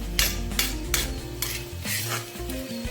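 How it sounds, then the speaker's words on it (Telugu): Prawns fry crisp in a pan with bitter gourd, a steady loud sizzle broken by repeated metal spoon scrapes and clinks against the pan as they are stirred, with no voices. "రొయ్యలు ఇలా చక్కగా ఇలా క్రిస్పీగా అయ్యేంత వరకు ఇలాగ చక్కగా ఎర్రగా వేయించుకోవాలి"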